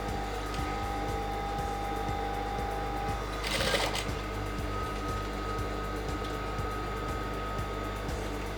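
A sewing machine stitches fabric for a traditional Yoruba cap, its needle chattering in a fast, even rhythm throughout, close and steady, with a brief louder rustle partway through.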